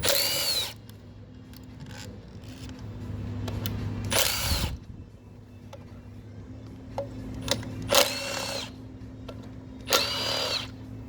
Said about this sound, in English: we're using a T40 Torx to remove the solenoids